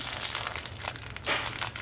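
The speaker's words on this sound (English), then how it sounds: "it has crinkly leaves on the side, and they love that crinkle" Crinkly fabric leaves on a baby rattle toy for guinea pigs crinkle in a continuous, close, rustling texture with brief bursts of louder crackle, no talking.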